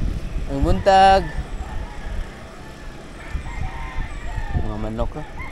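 Roosters crow in a rural part of Cabadiangan, Compostela, Cebu, Philippines: one loud, close crow near the start and a second, fainter one at the end, with chickens and steady outdoor ambience between.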